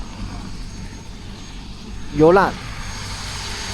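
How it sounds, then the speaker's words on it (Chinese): A sightseeing helicopter at the Nalati scenic area in Xinjiang gives a steady, distant droning hum across the whole stretch, while a voice briefly speaks over it. "后面有个直升机，那个坐那个直升机的那个"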